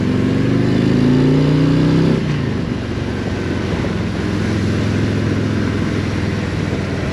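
A Harley-Davidson Street Glide Special motorcycle engine drones steadily while riding, with a rising rev at the start before settling into a continuous rumble mixed with wind noise.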